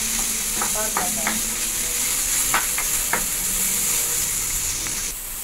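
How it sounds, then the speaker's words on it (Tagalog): Tomatoes sizzling steadily in a pan as they cook down to a paste for a sautéed upo dish, with a few utensil scrapes and taps over the constant frying hiss, close by and without speech. "gisa-gisa lang natin guys hanggang sa maging paste na yung kamatis"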